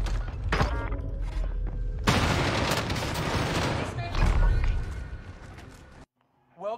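Sustained gunfire and explosive booms from a Call of Duty-style Warzone match fill nearly six seconds, loud and dense with rapid bursts and thuds, then cut off abruptly to near silence before a brief voice at the end.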